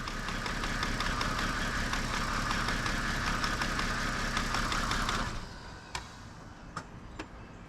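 A car engine idles steadily with a faint ticking pulse during a combustion leak test, running loud and close for about five seconds before it shuts off, leaving a few sharp clicks in the quiet.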